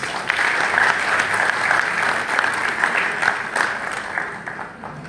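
A temple audience at an annual Mariammen prayer gathering in Mount Edgecombe applauds awardees with steady, dense clapping that fills the hall evenly and continues throughout.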